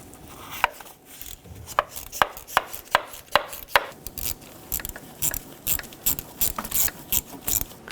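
A hand ratchet with socket loosening valve cover bolts on a 2.4L Jeep Wrangler clicks in uneven bursts, sharp individual clicks early, then a faster run of ratcheting, close up and with no voices.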